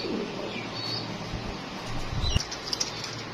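Fancy pigeons in a loft beat their wings in short, close flurries of flapping, with a few soft coos and chirps around them.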